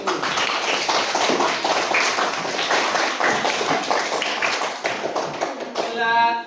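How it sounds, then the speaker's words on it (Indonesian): Classroom of children clapping for a student group, a dense, steady burst of many small hands that carries on for about six seconds before cutting off into a brief tone at the end. "Beri tepuk tangan kepada untuk kelompok 1."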